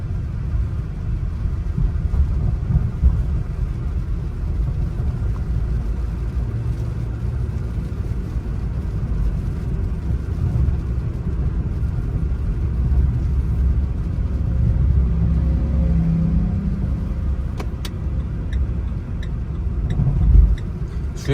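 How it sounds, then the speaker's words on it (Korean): A Renault Samsung SM3 car drives along a road on a test drive, its engine and road noise forming a steady low rumble throughout, with a slight swell near the end. "주행 중 엔진에서 안 좋은 소음이 발생하는 부분은 전혀 없습니다."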